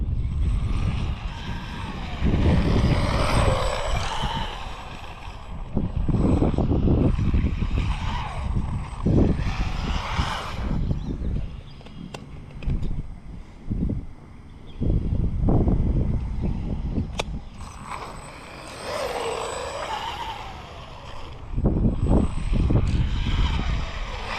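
An Arrma Grom RC car in Kraton style running on a 2S battery whines in repeated bursts as the throttle rises and falls, its motor swelling loudly then fading over a long stretch.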